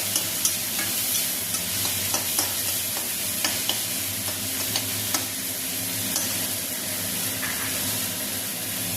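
Chili and garlic with spices sauté in a pan, giving a loud continuous sizzle close up, punctuated by frequent scraping knocks as a spatula stirs the mixture.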